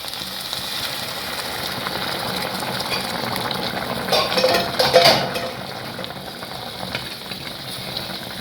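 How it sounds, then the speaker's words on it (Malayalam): Jaggery syrup poured over sago being fried in ghee, giving a steady sizzling hiss that swells into a louder burst of bubbling near the middle before settling back to a lower fry. "നമുക്ക് ശർക്കര പാനി ഒഴിക്കാം."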